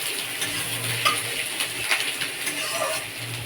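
Sliced onion and black cumin seeds sizzle in hot oil in a home kitchen while a utensil stirs them, with a few scraping clinks against the pan over a steady frying hiss.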